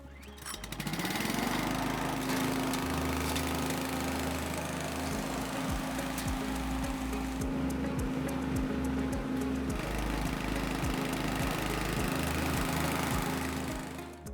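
A Cobra WV580SPL wheeled garden vacuum's petrol engine runs steadily and loud throughout, with a rising whine as it spins up and repeated rhythmic knocking beneath the drone.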